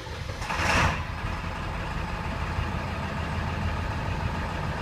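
A 7.3 Powerstroke diesel engine with a hard-start, rough-running fault catches with a brief surge near the start, then settles into a steady, loud, low idle rumble nearby.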